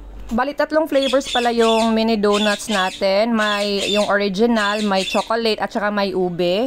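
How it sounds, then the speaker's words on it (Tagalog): A pet bird squawks loudly and repeatedly in a kitchen, its harsh calls sounding close and overlapping with a voice-over about making mini donuts. "Pasensya na po sa ibon namin, talagang sumasabay siya sa voice over ko."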